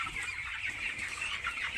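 A flock of 19-day-old broiler chickens clucks steadily in a poultry shed, many birds overlapping in a continuous, moderately loud chatter with no voices.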